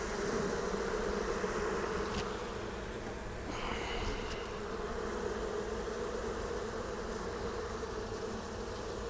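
Honey bees buzz steadily around an open hive during an inspection, a constant low hum of many insects with a few closer passes, quiet and unbroken.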